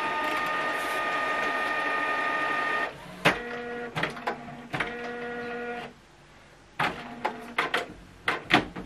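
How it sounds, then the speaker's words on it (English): A Canon Pixma printer starts up after being switched on, first a steady whirring mechanism hum, then a series of separate clicks, clunks and short motor whines with brief pauses between them, close and moderately quiet. "you need to turn your printer on by pressing the button here"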